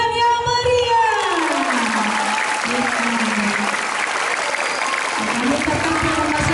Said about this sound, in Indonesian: Mari kita sambut pendamping kita dengan tepuk tangan yang meriah.